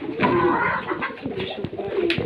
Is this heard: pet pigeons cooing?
yes